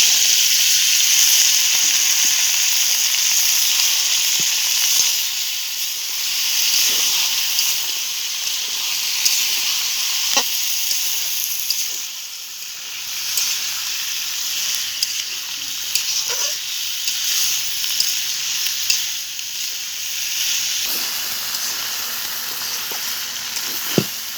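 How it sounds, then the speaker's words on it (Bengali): Raw jackfruit frying in spiced oil over a clay stove gives a steady, close sizzle and hiss that runs throughout, with occasional stirring clinks and pops and no talking. "এবার আমি কাঁঠাল দিয়ে দেবো"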